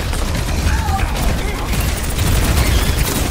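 Grenade blast and gunfire in an Overwatch 2 esports match, a dense continuous clatter of shots and crunching impacts with no clear gaps, loud throughout.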